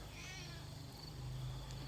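A cat meows once, drawn out and plaintive, close by over a steady low hum.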